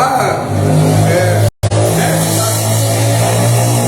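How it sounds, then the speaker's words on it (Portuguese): A motorcycle engine passing by outside, a loud droning growl that holds steady and briefly cuts out before resuming, heard under a man's ongoing speech. "Barulhinho aqui, a moto, delícia."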